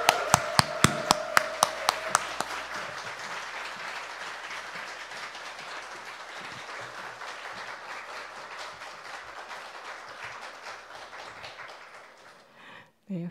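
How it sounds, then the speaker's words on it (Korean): A church congregation applauds and cheers as the preacher comes forward at a combined worship service. A few sharp, separate claps come first, then dense, steady applause that gradually fades away near the end. "환호해 주셔서 감사합니다"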